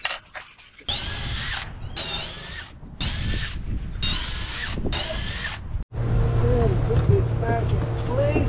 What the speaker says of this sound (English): time to drill for the big screws I'm going to send up into the deck